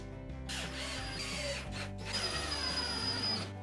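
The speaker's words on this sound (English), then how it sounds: "screwing the top down from underneath" A power drill drives screws up through the underside into a plywood table top, its motor whining loudly and steadily with brief pitch shifts and a short pause between runs.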